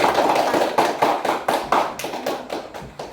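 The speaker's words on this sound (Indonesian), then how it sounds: "tepuk tangan untuk kelompok" A short burst of clapping from a class for a student group, rhythmic and fairly loud, with hand claps landing in a quick steady beat for about three seconds.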